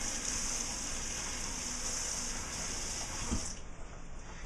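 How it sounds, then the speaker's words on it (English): Kitchen tap running steadily as a knife blade is wetted before cutting sushi rice, a close continuous gush that cuts off near the end. "What you want to do is you want to wet your blade before you cut this"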